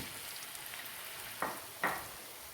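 Rava vada fry in hot oil over a low flame with a faint, steady sizzle, broken by two short louder bursts near the end.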